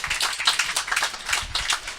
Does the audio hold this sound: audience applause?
yes